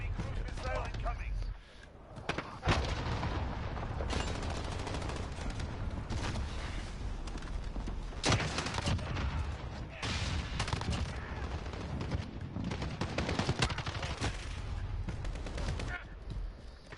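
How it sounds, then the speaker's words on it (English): Enemy cruise missile strike in a video game: a loud, dense barrage of explosive blasts and gunfire-like bursts rolls on almost continuously, with brief lulls and sharp peaks. "Enemy cruise missile incoming."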